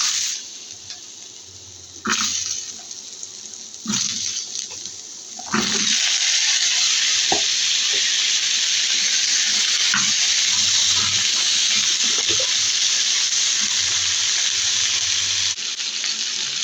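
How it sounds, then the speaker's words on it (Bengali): Ridge gourd frying in a wok, a loud, steady hissing sizzle that swells after a few softer bursts and then holds continuously, close up with no talk. "এখন আমি চিচিঙ্গাগুলো ভেজে নিব।"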